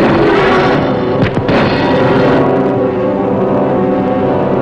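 A submarine torpedo launches from a tube, heard as a loud sustained rush of pressurized air and water. Near the start a sharp thump cuts through it, and the roar continues steadily with no voices.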